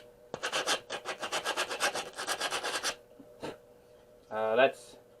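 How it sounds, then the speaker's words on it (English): A piece of wood resting in a lap is rubbed down in a quick run of rhythmic rasping strokes, close and distinct, followed by a pause, a lone scrape and a brief louder scratch at the end. "why is this man got a piece of wood in his lap and he's just rubbing it down?"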